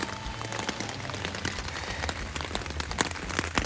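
Rain falling on a tent at a lakeside camp along the Florida Trail, a dense steady patter of drops tapping the fabric, with no voices.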